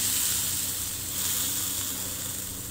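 Fennel powder and onion frying in a pan, a steady bright sizzle and hiss close up, even and continuous with no talking.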